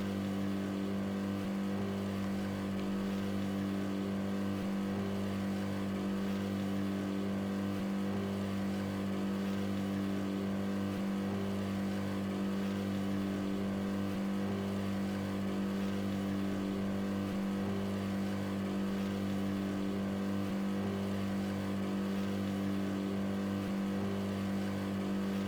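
A vehicle drives in the video game DayZ on the Deerisle map: a long steady engine drone, low and even, with faint rumbling underneath and no talking.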